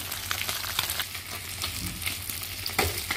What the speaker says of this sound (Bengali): এইভাবে ভাজলে মাছটা খেতে অনেক মজা লাগে